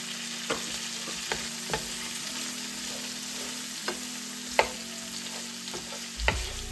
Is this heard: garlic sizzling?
yes